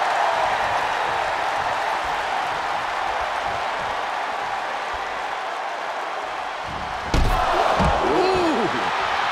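A wrestler's face is slammed down onto the mat during an Intercontinental Championship contender match, one loud, sharp impact late in the clip that rises above constant crowd roar.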